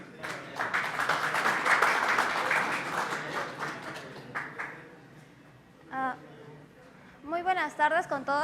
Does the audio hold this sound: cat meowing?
no